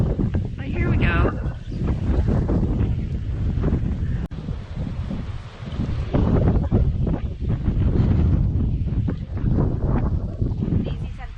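A strong headwind roars and buffets across the microphone during a float down an ancient Mayan canal in the Sian Ka'an biosphere reserve; the loud, steady wind rumble continues throughout while people talk.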